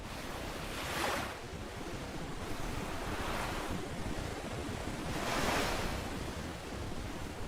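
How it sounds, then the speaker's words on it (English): Pacific ocean waves surge and break against the rocky stone formations of Biri island, Northern Samar, in slow rolling swells under constant wind noise, with no voices. "The stones of Biri endure the waves."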